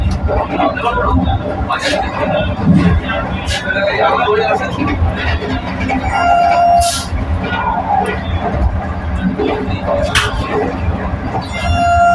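A Vande Bharat high-speed train runs from Puri toward Howrah, heard from inside as a steady, loud rumble and rattle of the moving carriage. A voice talks over it throughout, with brief higher-pitched tones now and then.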